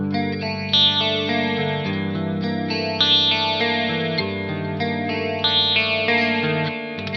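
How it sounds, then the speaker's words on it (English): Music Man Kaizen 6 electric guitar on a clean tone with split-coil pickups, chords and picked notes ringing steadily with bright string snap and some chorus-like shimmer, played alone for several seconds. "Split coils on the clean,"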